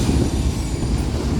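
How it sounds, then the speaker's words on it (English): A Union Pacific manifest freight train passes close by, its wheels and cars producing a loud, continuous rumbling roar with no voices. "I'm gonna show y'all this second train right after this train."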